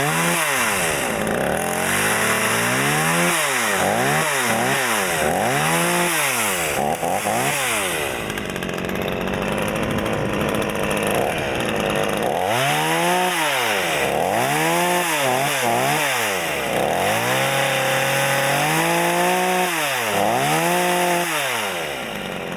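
A Prorun PCS214 14-inch gas chainsaw on its first start, loud and close, revving up and down in repeated bursts with a steady idle between, then more rising and falling revs.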